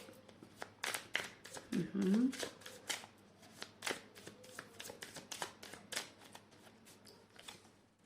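Tarot cards are shuffled by hand in brief riffling bursts, soft and close, while a person speaks over them.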